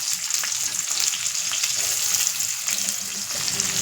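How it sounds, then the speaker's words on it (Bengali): Cubed onion hits hot oil in a pan for a chili chicken dish, raising a strong, continuous sizzle up close with light stirring scrapes scattered through it. "এখন এর মধ্যে পেঁয়াজটা দিয়ে দেবো। এই যে কিউব করে রাখা পেঁয়াজটা দিয়ে দিলাম।"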